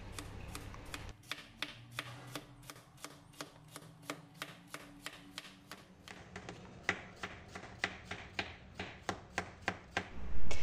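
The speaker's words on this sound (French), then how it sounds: "j'ai pris les courgettes, j'ai retiré cette partie puis je les coupe en tranches" Knife slicing courgettes on a cutting board into rounds, a steady run of crisp, close chops repeating roughly twice a second, alone with no talk.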